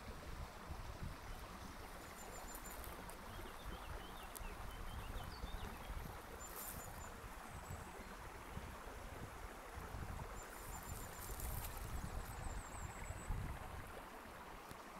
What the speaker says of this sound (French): je vais encore vous montrer cette jolie rivière que nous avons ici